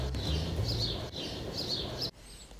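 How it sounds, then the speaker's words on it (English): Birds singing outdoors, repeated bright chirping phrases that are fairly faint over a steady broadband outdoor hiss. "You hear the birds singing?"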